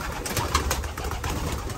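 White grizzle racing pigeons coo softly in a family loft, low murmuring calls repeating under a constant background hum.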